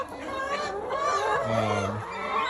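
Chickens cluck in short, murmuring bursts amid a busy, noisy coop with roosts on a farm, one louder, drawn-out cluck near the middle.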